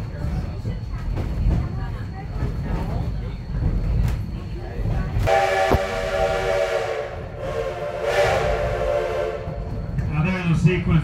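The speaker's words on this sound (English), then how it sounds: "Now there's a sequence of whistles we haven't heard yet. It's a long and a short. It's a warning." Steam locomotive whistle on a heritage railroad at a railfan weekend, sounding a long blast then a short one as a warning signal, loud and harmonic over background rumble and crowd voices.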